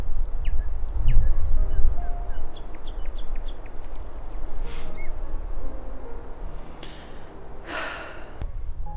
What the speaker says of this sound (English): I can almost not hear anything besides the wind here and the birds.